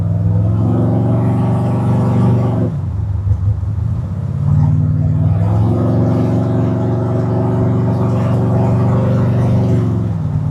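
The brand-new motor of a 1969 Ford Mustang drones loud and steady while cruising in overdrive at about 1,500 RPM, with a brief dip and change in pitch partway through before the even hum returns.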